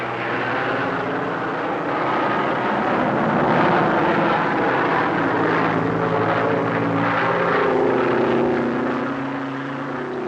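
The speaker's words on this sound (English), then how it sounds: "Planes fly low." A propeller airplane flies low over rough country of hummocks, trees and small pastures, searching for a landing place; a loud, steady engine drone swells and recedes slightly, with no talk.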